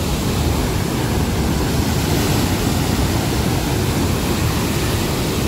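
Water released through the gates of the Pong dam roars as a loud, constant, broadband rush, like a waterfall heard close up, with no voices.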